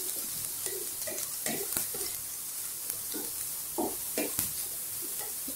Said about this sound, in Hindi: 6-7 कलियां एकदम बारीक कटी हुई लहसुन की, और हल्का सा इसको फ्राई होने देंगे।